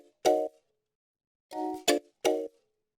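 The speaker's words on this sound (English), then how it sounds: "I loaded in this Omnisphere, which is the coffee can kalimba" Plucked coffee can kalimba chords from Omnisphere ring out alone in four separate bright strikes, the first isolated and the last three close together, each decaying quickly into silence.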